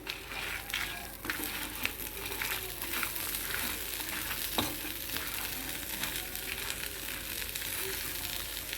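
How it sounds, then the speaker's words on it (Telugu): Peanuts with garlic, turmeric and salt frying in a pan for a chutney, stirred continuously; a close, steady sizzle runs throughout with scraping and rattling from the spoon layered on top. "ఇందులోనే అన్నీ ఒకసారి వేసేసి ఒకసారి తిప్పుదాం"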